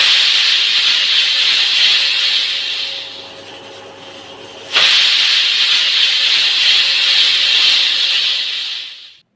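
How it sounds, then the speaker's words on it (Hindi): A kitchen pressure cooker releases steam with a loud, steady high hiss that eases off briefly, then abruptly surges back and continues strongly before cutting out. "अब हमारा दूसरा सीटी लग चुका है।"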